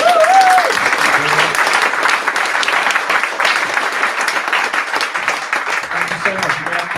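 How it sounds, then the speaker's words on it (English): An audience at a software meetup applauds steadily, a dense wash of clapping that carries on throughout, with a few brief tones near the start. "ask for another round of applause for Abby."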